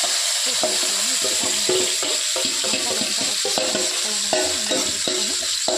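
Marinated fish pieces dropped into hot oil with turmeric for a Sunday-special fish curry, giving a steady, close, loud sizzle with frequent stirring clinks and scrapes across the whole stretch, no voices.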